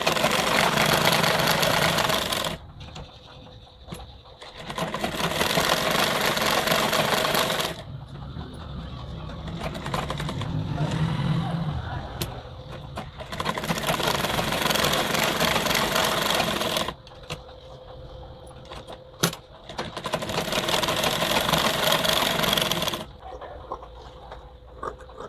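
An electric sewing machine stitches around the sides of a full-sleeve blouse lining in three loud, close bursts of steady whirring, separated by quieter pauses with faint handling noise.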